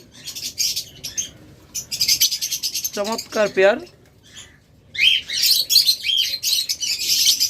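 Albino opaline Fischer's lovebirds chirp in quick, bright bursts, with a brief run of lower squawky calls midway, fairly close and busy throughout while someone speaks over them.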